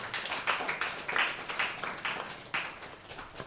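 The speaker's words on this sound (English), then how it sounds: "Please, can we give them a round of applause?" A modest group claps, the applause fairly faint and a bit distant, with uneven bursts of hands rising and fading over a few seconds.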